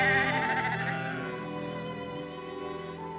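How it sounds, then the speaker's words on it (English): A sheep cries out in a long, loud, wavering bleat that carries close and alone, its quavering tone holding for about three seconds. "the sheep cried again"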